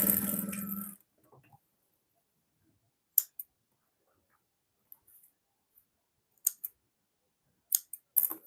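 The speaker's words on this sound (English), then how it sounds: "after I stitch, I'll snip through with my scissors" Scissors snip through fabric in short, crisp cuts, some single and some in quick pairs, spread across a quiet stretch after a brief burst of noise at the start.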